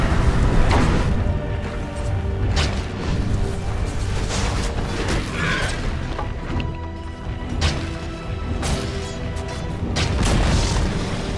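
Dota 2 tower being destroyed amid a match, loud repeated booms, thwacks and crashing impacts in irregular bursts over a dense, continuous battle din.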